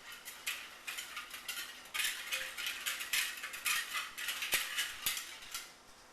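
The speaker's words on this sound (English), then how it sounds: "so, and you stir some more," A spoon stirs purple vodka jello shot mixture in a container, making a series of quick scraping, clinking strokes in an uneven rhythm, fairly faint and close, with no talking.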